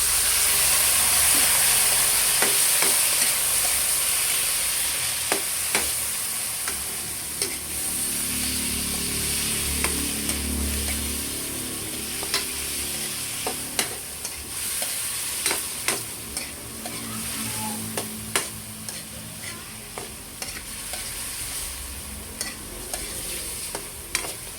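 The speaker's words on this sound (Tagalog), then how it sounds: "Ako'y magigisa na ng bawang at sibuyas. Lalagay ko na po itong karne." Pork pieces fry in a pan with sautéed garlic and onion, a steady close sizzle and hiss with scattered sharp stirring clicks and scrapes of a utensil running throughout, no talking.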